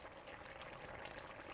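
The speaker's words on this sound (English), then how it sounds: "It's okay if it's still boiling away" Rice simmers in boiling chicken stock in a pot with a steady, soft bubbling hiss. It is faint and continuous, with no talk.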